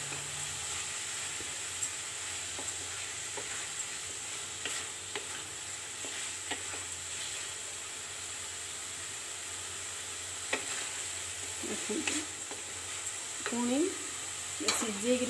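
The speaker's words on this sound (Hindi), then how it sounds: "हल्का फ्राए कर पनीर को" Paneer frying lightly in oil makes a quiet, even hiss with occasional stirring taps, and a faint voice-like sound comes in near the end.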